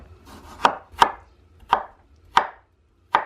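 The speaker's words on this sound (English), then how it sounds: "I'm going to cut it into slices" A knife slices a cucumber on a cutting board in five crisp, evenly spaced chops, close and loud against a quiet background.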